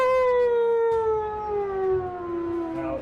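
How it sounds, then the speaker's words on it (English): A wolf-like howl effect from a soundboard, used in a tabletop roleplaying game session: one long sustained tonal wail, loud and close, slowly gliding downward in pitch over about three seconds, with no talking over it. "use the soundboard for your own howl"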